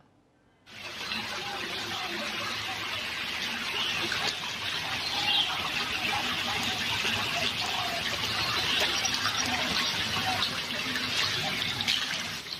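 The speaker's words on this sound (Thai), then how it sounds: "เปิดน้ำในห้องทิ้งไว้ จนน้ำท่วมอ่ะ" Water left running in a rented room gushes steadily, a constant hissing, splashing flow that starts abruptly and continues at even strength throughout.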